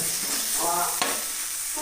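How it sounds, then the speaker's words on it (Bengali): Soybean chunks sizzle steadily in hot oil in a kadai, close by, with a brief stir or scrape of a utensil partway through. "সয়াবিনটাকে এখন ভাজা হচ্ছে"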